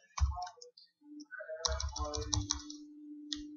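Computer keyboard typing while entering map details in ArcGIS software, with short bursts of close clicking keystrokes broken by pauses, then a longer quick run of keys near the end.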